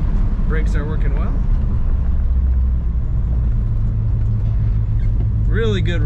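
A deep, steady exhaust rumble from a 1970 Chevrolet Chevelle Malibu at idle drones continuously at close range, with a person speaking briefly near the start and end.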